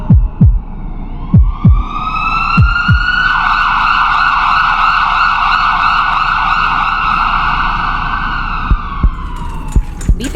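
An ambulance siren in a Tamil stroke-awareness short film wails loud and steady for most of the stretch, its rising and falling harmonic tone held up close, with sharp thumping beats before and after.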